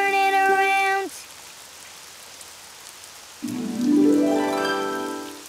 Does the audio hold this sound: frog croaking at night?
no